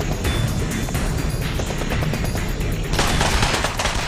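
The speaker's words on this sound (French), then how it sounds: "les tirs reprennent de plus belle" Dense automatic gunfire rattles in a jungle firefight between SAS units and fighters in a counter-attack, a continuous loud burst of overlapping shots that grows even heavier near the end.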